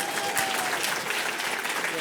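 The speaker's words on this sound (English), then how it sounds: "Round of applause." Sustained clapping from a crowd, steady and dense throughout, a round of applause filling the room without pause.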